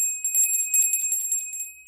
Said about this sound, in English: And you thought I'd lost that little bell, didn't you?